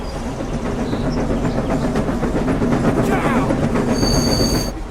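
A passenger train in the Trainz video game rolls along with steady rumbling and rhythmic clatter, a brief squeal and hiss toward the end.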